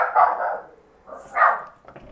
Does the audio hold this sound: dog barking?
yes